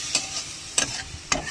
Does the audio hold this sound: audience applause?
no